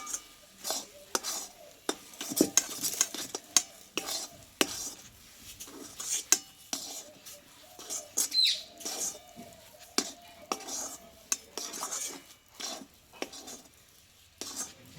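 Semolina and wheat flour are worked by hand into a stiff dough in a bowl for a sweet pitha: irregular scraping, rubbing and light clinking taps close by, with no talking.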